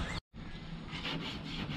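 A homemade wooden drawer in a truck bed slides and catches on a bottom lip, making a low scraping rub that cuts off briefly and then resumes as a steady grinding drag.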